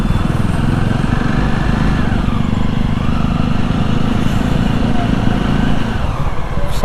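Jawa 42 motorcycle engine with the exhaust baffle removed, a loud, continuous, throaty rumble heard up close while someone talks over it.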